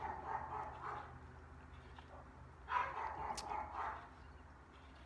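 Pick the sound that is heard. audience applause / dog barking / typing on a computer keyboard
dog barking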